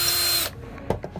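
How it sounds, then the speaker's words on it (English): A power drill bores a hole through a wooden board used as a guide for a pizza pan rack: a loud, close, steady whine for about half a second, then stops, followed by a few faint knocks. "I'm going to drill the hole all the way through."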